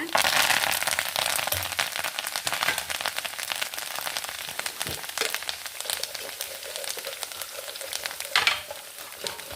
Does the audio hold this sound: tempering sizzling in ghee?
yes